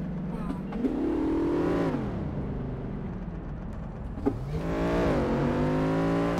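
A car engine revs while driving on a road with sharp bends, rising and falling in two long sweeps, loud and close from inside the car, with a voice talking over it.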